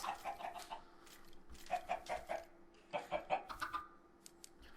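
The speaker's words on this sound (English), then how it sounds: "So now I got some chickens." Chickens in the video game Minecraft cluck in short repeated bursts, fairly faint, with no talk over them.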